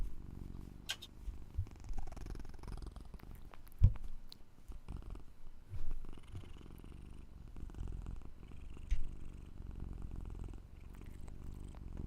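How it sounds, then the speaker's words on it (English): A house cat purrs softly and steadily in a quiet room, a low continuous rumble with a few faint knocks and rustles. "Just purring in the background."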